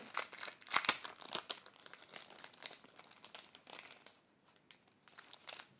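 Flower stickers peeled from a sticker sheet with close, crisp crinkling and tearing rustles, quiet and irregular, stopping and starting several times.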